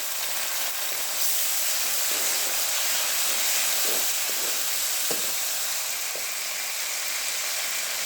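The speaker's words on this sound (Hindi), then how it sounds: "अब हम इसमें डाल देंगे 1 टेबल स्पून लहसुन अदरक का पेस्ट। साथ में डाल देंगे बड़े साइज़ का टमाटर।" Garlic ginger paste and a large tomato hit browned onions in a hot pan, giving a loud, continuous sizzle and frying hiss with faint stirring ticks throughout.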